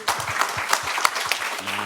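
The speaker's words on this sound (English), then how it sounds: "One more round of applause, please, for our panel and moderator." Audience applause at the close of a panel discussion on thriving communities and small businesses, a steady wash of many hands clapping close by for the full two seconds, with low murmuring voices under it.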